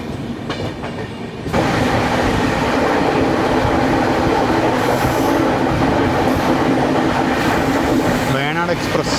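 A Venad Express passenger train passes in Kerala between Chengannur and Thiruvalla, heard from aboard another train: a loud, steady rumble and clatter of wheels builds suddenly and fills the clip, with a brief squeal near the end.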